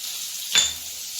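Boiled potatoes seasoned with salt and turmeric fry in a pan with a steady faint sizzle, broken once by a single short scrape or clatter of a utensil, close and alone.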